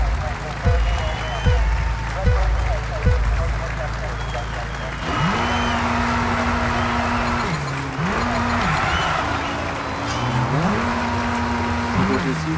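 A Formula 1 race car drifting in the F1 22 video game, its engine holding steady high tones that dip and climb again through the slides, with tyre noise throughout and a speaking voice over the top.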